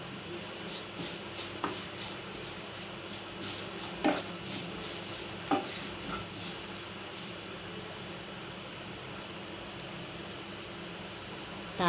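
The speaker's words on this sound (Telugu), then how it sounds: "తాలింపు వేగాలి." Curry leaves sizzle in hot tempering oil for a simple semiya upma, a steady, moderate frying hiss with a few soft utensil clinks and stirring taps.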